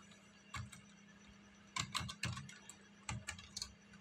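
Arduino code being typed on a computer keyboard, with clusters of crisp, close key clicks separated by short pauses in a quiet room.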